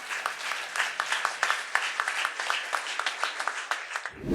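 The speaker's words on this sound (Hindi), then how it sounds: "तो ताली बजाओ फिर अपने लिए" Audience at an all-India yoga conference clapping in a steady, sustained round of applause, moderately loud and continuous, ending abruptly.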